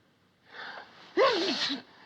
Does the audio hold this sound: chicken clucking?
no